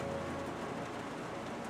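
Heavy rain from the Phoenix Wright: Ace Attorney video game, heard as a faint, steady wash of falling water with no voices over it.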